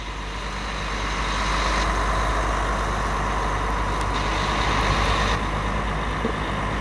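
A Viação Garcia double-decker Panorâmico bus passes close by with a deep engine drone and heavy road noise, swelling louder midway then easing off, with faint hissing clicks over the steady rumble.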